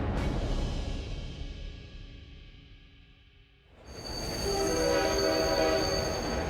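A China-Europe Railway Express freight train on the route through Xinjiang and Inner Mongolia rumbles past. The noise dips for a moment, then a loud, sustained horn blares close by over the rolling roar.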